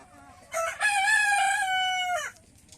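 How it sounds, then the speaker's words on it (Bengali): A tiger-breed rooster on a poultry farm gives one loud, close crow lasting under two seconds, with a brief clucking lead-in and no other sound around it. "এই যে দেখেন অরিজিনাল টাইগার মুরগি দেখতে পাচ্ছেন।"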